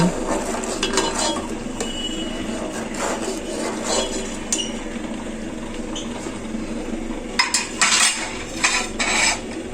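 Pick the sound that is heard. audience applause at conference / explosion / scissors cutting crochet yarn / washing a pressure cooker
washing a pressure cooker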